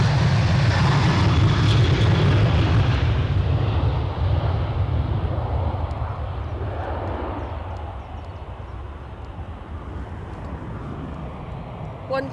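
An easyJet airliner departs Edinburgh Airport for Belfast on a windy day, its loud, deep jet roar filling the air and then fading slowly over several seconds, with wind buffeting the microphone.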